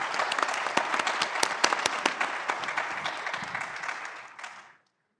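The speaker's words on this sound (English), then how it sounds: "If you could all join me in giving our panelists a warm round of applause" A conference audience applauds panelists at a tech gathering, with a few sharp, close claps standing out from dense clapping. The applause fades and ends abruptly just before five seconds.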